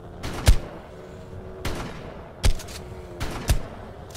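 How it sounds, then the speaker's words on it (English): Shotgun blasts in Ark Survival Evolved Mobile, four heavy, separate shots spaced about a second apart, each a sharp thump over quiet game ambience. "Let's pull this uh, shotgun out"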